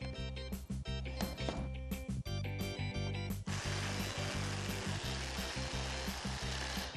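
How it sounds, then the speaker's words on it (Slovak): A battery jigsaw cuts through a wooden board clamped in a workshop, its motor buzzing steadily with a rapid rasping stroke, briefly pausing early on before a continuous close cut. "Teraz priamočiarou pílou vyrežeme otvor."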